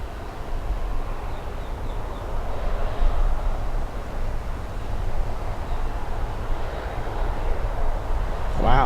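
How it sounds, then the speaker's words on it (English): A Boeing 737 taxiing quickly at Miami International Airport, its steady engine rumble and whine holding at moderate, fairly close range throughout, with a brief tonal sweep near the end. "Alright, Sky High Express taxiing pretty quick."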